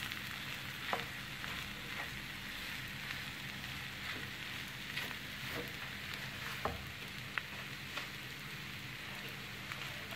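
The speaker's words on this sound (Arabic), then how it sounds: "غنستمر في تشحار هاد الحشوة. وانا سنخلط وكنحرك مزيان." Fish pastilla filling sizzles steadily in a pan, a dense continuous frying hiss with occasional soft scrapes and taps as it is stirred, fairly quiet and without talk.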